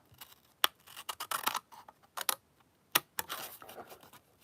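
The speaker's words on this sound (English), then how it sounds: "we're going to cut this piece off" Scissors cut a piece off with a run of quick, crisp snips close by, interspersed with small handling rustles, at a quiet level and with no talking.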